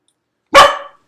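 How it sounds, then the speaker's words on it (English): A neighbor's dog gives a single loud, close bark, ringing briefly before fading into silence. "Oh, the neighbor dog."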